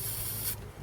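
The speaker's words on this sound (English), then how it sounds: "Spray this in with the throttle open" A close, steady hiss of aerosol spray being shot into the open throttle of a 1940 Buick straight eight, continuous for about half a second before cutting off sharply, leaving quieter low rumble behind.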